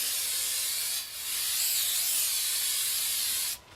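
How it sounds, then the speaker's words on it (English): Brake cleaner sprays in a steady, loud, close hiss onto new brake rotors for a rear brake job on a Volkswagen MkV Jetta. The hiss breaks off briefly near the start and then continues before stopping abruptly. "so I'm just going to spray them down with some brake cleaner"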